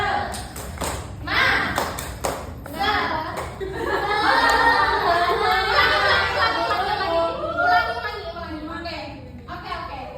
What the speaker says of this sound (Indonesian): Ayo kita tepuk dulu. Tepuk.